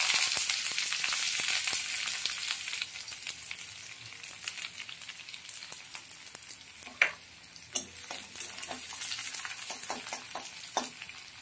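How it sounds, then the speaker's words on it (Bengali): Sliced onion frying in hot oil in a kadai, a bright crackling sizzle that settles down while a utensil scrapes and knocks against the pan in scattered strokes, close up with no talking. "অর্ধেক পেঁয়াজ এবার কড়াতে দিয়ে দিচ্ছি"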